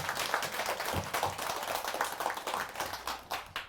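Scattered applause from an audience at a Buddhist dharma talk, moderately faint with uneven individual claps spread across a few seconds.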